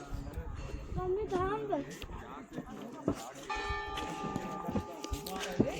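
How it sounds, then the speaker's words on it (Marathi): A temple bell rings repeatedly at Muktinath temple, its sustained metallic tones blending with busy crowd chatter and nearby voices in a bustling outdoor setting. "मंदिराचा घंटानाद ऐकायला येतोय."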